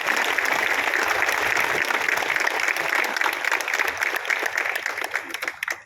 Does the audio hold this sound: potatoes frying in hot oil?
no